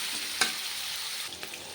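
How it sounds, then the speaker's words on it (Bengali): Paneer fries in a pan with a steady, bright sizzle and a few sharp spits and stirring scrapes, heard close up with no talking. "অল্প একটু ভেজে নেব।"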